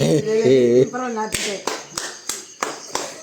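Audience clapping at a Tamil poetry-reading challenge, a few sharp separate claps spaced roughly evenly, following a voice that talks and sings beforehand.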